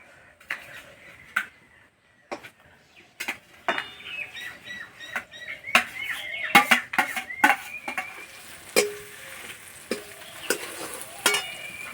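Potatoes stirred with fried ground spices in a pan: a spoon scrapes and taps in irregular strokes over a light sizzle, close and fairly loud, with no talk.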